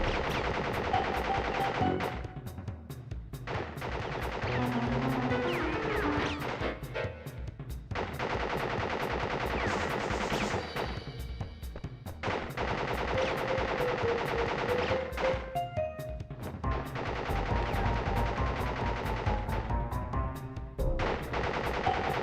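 Automatic gunfire from a boss in the 1996 Crash Bandicoot video game, loud sustained bursts of rapid shots broken by brief pauses, layered over game music with no talking.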